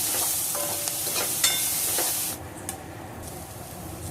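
Spices, chilli powder, amchur powder and coriander powder, are stirred into corn poha frying in a pan, giving a steady hiss and sizzle with soft scraping stirs that fades sharply partway through, close and with no speech.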